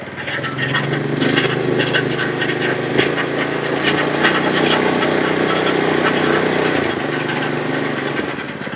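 A petrol engine-powered all-in-one weeding rotavator runs steadily at close range, a continuous loud mechanical drone with a rough, vibrating chug that holds level throughout, as if throttle is held up, with faint background voices.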